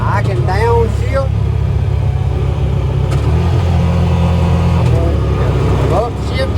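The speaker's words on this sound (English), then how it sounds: "I'm going to upshift, third, fourth, fifth. Now I can downshift." A Honda Pioneer 500 side-by-side engine runs steadily and loudly while driving, its pitch rising and dropping as it shifts up through the gears, with someone talking over the motor throughout.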